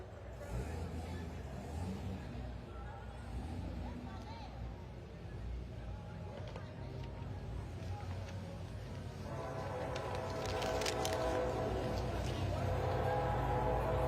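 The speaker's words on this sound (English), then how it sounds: "We're joined, I see, by CSX Railroad. Hear that horn tooting now." A CSX Railroad locomotive horn sounds during a Veterans Day parade in Huntsville, a sustained tonal blast rising over the steady rumble of idling vehicles and crowd noise in the second half, with people talking throughout.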